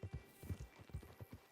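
Horse hooves clip-clop in the video game Red Dead Redemption Online, a quiet, even rhythm of about a dozen soft hoof beats at a steady walking pace.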